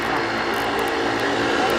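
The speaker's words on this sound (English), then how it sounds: "This is an ATR 72." ATR 72 turboprop airliner taxiing at Buffalo airport at night, a steady loud broadband engine and propeller roar filling the short stretch without letup, with voices talking over it.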